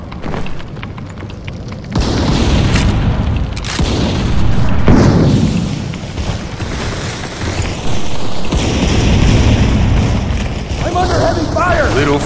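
Explosions in the mobile shooter Modern Combat 4: Zero Hour come as deep, rolling booms and rumbling blasts that repeat through the clip, with mechanical clatter and voices mixed in.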